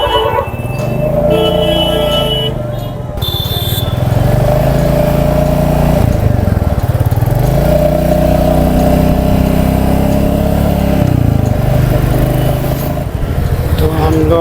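A motorbike engine drones steadily up close on a ride toward Nainital, its pitch rising and falling as the rider shifts through gears, with faint wind and traffic noise around it.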